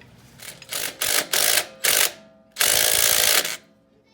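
Socket wrench breaking loose 15mm driveline bolts on a Jeep JK, heard as several short bursts of ratcheting and mechanical clatter followed by one longer sustained run, loud and close with no talk.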